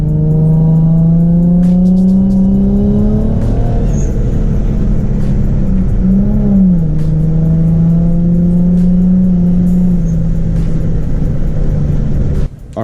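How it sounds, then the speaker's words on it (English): Rear-mount turbo Infiniti G35 engine revving loudly and close, with a steady droning idle whose pitch rises briefly in a few throttle blips and falls back, running continuously for the whole stretch. "the car sounds amazing"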